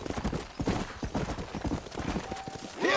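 A horse's hooves gallop in the Red Dead Redemption video game, with fast, rhythmic clip-clops close up. A brief whinny comes near the end.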